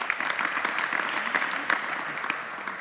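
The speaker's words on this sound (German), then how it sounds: "Nochmal einen dicken Applaus" Fairly faint, steady applause from the audience at a panel discussion welcoming a guest, continuous clapping with a few sharper claps standing out.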